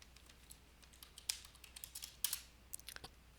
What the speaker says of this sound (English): I know why I pushed the 3, because I was typing so fast with my fingers